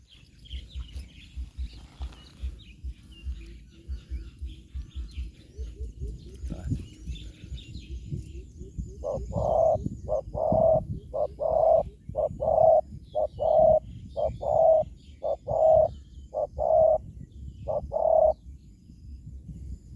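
A large spotted dove coos in a steady series of low, repeated three-note calls over a rustling, low background, with soft other birds faintly behind.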